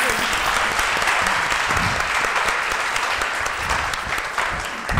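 A hall full of people at a literary and theatre event applauds the teachers, with loud, sustained clapping that continues evenly throughout.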